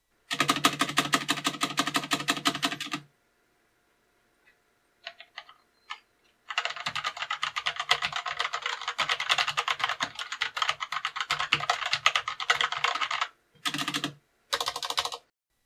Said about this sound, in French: c'est un clavier qui n'a pas de switch Cherry, il a des switches de chez eux, les QS1, qui sont plus mieux bien. Alors on va vous les faire écouter